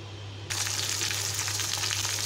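Onions dropped into hot oil on a stove burst into a loud, steady sizzle after a quiet start, continuing evenly with a low hum underneath.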